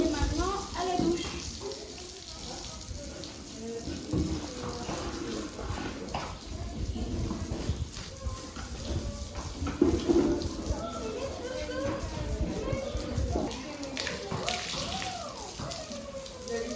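Water from a shower hose sprays steadily while a horse is washed down at a riding stable, a continuous hissing splash with uneven spatter, and voices are faintly heard beneath it.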